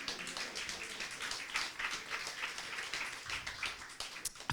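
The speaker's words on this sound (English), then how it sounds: "Yes, you can applaud." An audience at a talk on Black mothers and childbirth applauds as the first professor of midwifery in the UK is introduced: dense, steady clapping that fills the whole stretch at an even level.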